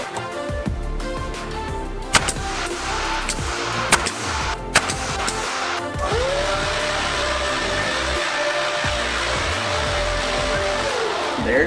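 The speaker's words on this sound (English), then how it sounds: "I'm gonna go ahead and put a couple screws holding this to the wall" A power driver sinks screws through a garage cubby bench into the wall, its motor whining continuously and loudly, with pitch rising and falling as each screw drives in and brief knocks in between.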